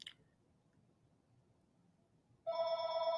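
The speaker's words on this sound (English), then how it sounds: "So I'm sorry for the phone." A landline telephone at an older couple's home in the woods begins ringing loudly partway through, a steady bright electronic ring following a quiet stretch of room noise.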